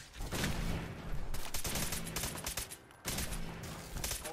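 Volleys of rapid gunfire in the video game Fallout 4, loud and close, coming in three dense bursts separated by brief lulls.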